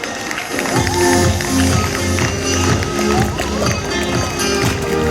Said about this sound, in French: Et on tape fort dans les mains pour accompagner les meilleurs couples de ce Grand Prix.